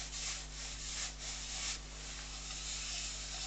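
Fine sanding on a yew wood bowl at the lathe makes a steady soft rubbing hiss, close and faint over a constant low hum, with no talking.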